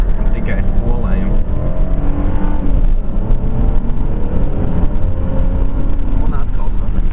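An Acura CL engine revs hard in neutral before wheelspin, giving a loud sustained howl with shifting pitch throughout, close to the microphone, while someone talks over it.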